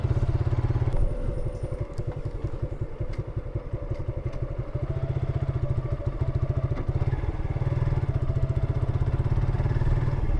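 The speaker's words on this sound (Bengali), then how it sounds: "আপনারা একটা জিনিস খেয়াল করলেন বাইকটা একটু মানে ছটল ছেড়ে দিচ্ছিল" A Suzuki Gixxer Monotone 155cc motorcycle engine runs with a steady low throb that dips and stumbles as the throttle drops and cuts out briefly, then recovers; close, loud and continuous, with no talk.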